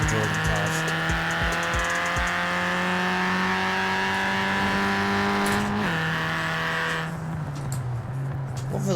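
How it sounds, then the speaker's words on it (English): A 1983 MK1 Golf GTI in Forza Horizon 4 launched with traction off, engine held at a loud steady high rev through wheelspin, then dropping pitch at a gear change, with someone talking. "when I did that launch, it would literally just spin and spin and spin, and it won't put the power down"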